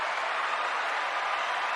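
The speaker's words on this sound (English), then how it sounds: "Let's get some applause for that." A short, steady wash of studio audience applause, dense and even throughout with no voices standing out.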